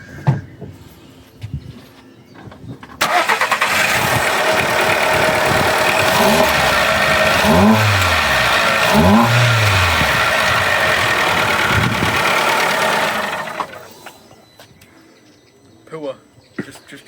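A SEAT Ibiza engine fitted with its original air intake, the air filter taken out of the airbox, holds a loud sustained rev with a couple of rising and falling blips before it drops back to a quiet idle, with brief talk at either end.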